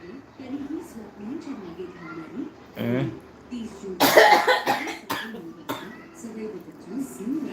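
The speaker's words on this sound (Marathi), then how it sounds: "दिदीच्या मम्मीला खोकला येतो" A woman coughs in a few sharp, close bursts at home, surrounded by ongoing conversation and a voice.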